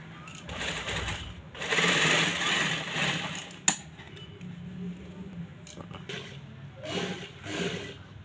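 Sewing machine stitching the cuff of a men's kameez, running in several bursts of varying length with brief pauses and a sharp click midway, close and moderately loud.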